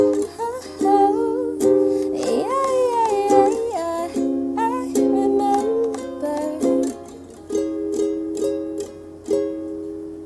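A ukulele plays the intro of a song: bright chords strummed in a steady rhythm, with a sliding melodic line weaving over them, played close and clear without any voice.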